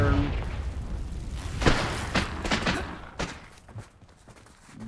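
A Confringo fire spell explodes in Hogwarts Legacy with a heavy boom and follow-up thuds, fading into rumbling aftermath amid game ambience.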